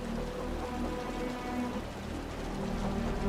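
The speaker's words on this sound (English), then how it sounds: "The rain's getting heavier." Steady, dense rain in the video game Wuthering Waves patters continuously over a low rumble, filling the whole stretch without a break.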